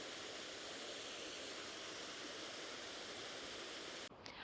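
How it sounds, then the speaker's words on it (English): Waterfall feature on the Cleethorpes seafront, a steady broadband rush of falling water heard from a distance, continuous and even throughout with rain and sea nearby, ending with a brief dip at the close. "you can hear this waterfall from quite a distance."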